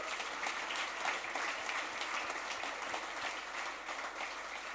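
Scattered applause from an audience at a software developer conference comes through fairly faint and roomy, with individual claps audible in a steady patter over the short stretch.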